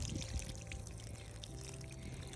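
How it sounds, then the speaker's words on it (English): Water spills from a worn, leaky watering can onto freshly spread worm castings around plants in a community garden, a steady unbroken pour with a low rumble underneath, fairly quiet and with no talking. "watering can has kind of seen better days, so water comes out everywhere when I try to water"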